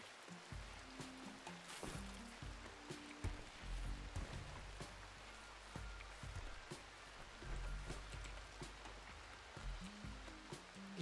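Steady rain in the RimWorld video game, a soft continuous hiss with scattered drop taps and low rumbles, fairly quiet and without voices.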